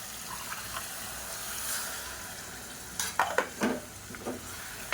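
Curry of drumstick and potato with coconut paste stirred in a pot, wet scraping and sloshing strokes in a short burst of several movements after a quieter stretch, close and moderately loud.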